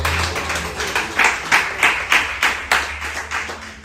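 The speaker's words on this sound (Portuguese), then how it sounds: "Você pode aplaudir ao Senhor?" Congregation clapping together during a church service, a run of distinct, fairly loud rhythmic claps that swell in the middle and then ease, with no talking over them.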